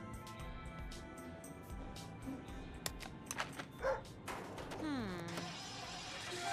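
A cartoon dog barks in the video game Scribblenauts Unlimited, with a few short yips and woofs set among game sound effects and a steady background of game music.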